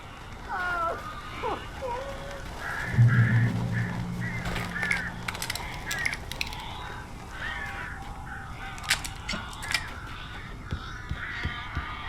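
Crows caw repeatedly in Alan Wake Remastered, harsh calls scattered across the scene at moderate distance, mixed with game ambience and a low droning tone, while a voice speaks in the background.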